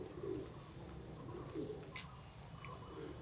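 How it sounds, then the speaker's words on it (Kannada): Pigeons give soft, low coos roughly three times in a short stretch, faint and somewhat distant against quiet outdoor background noise. "ಇವಾಗ ನನ್ನ ಹತ್ರ ಚೆನ್ನಾಗಿರೋ ಪಾರಿವಾಳಗಳು ಇದೆ ಸರಿನಾ"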